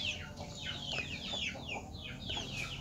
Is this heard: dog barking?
no